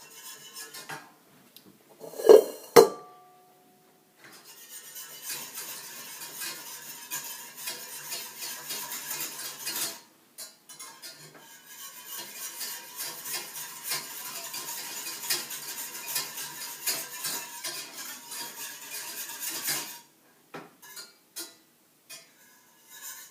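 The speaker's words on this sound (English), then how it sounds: "I have to make sure this gets whisked together and all the yeast is not in a clump" Whisking yeast into milk in a bowl, with a steady scraping, clinking stir that runs for long stretches, broken by a couple of sharp knocks near the start and a brief pause midway.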